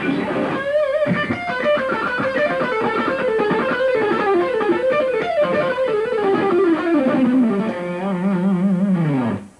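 Distorted electric guitar through DiMarzio PAF Pro humbucker pickups plays a fast, fluid melodic run with bending notes and a thick, warm tone, ending on a sustained low note.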